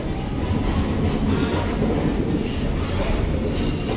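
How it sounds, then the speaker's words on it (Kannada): A train rumbles loudly and continuously, wheels clattering on the rails as it rolls into a station close by. "ಇವಾಗ ತಾನೇ ಟ್ರೈನ್ ಬಂತು."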